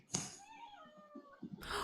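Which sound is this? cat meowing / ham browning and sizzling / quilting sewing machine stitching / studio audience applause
cat meowing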